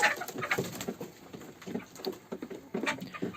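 Chickens sick with laryngotracheitis breathe with soft raspy wheezes and rattling, cooing sounds in quick irregular bursts, close but quiet.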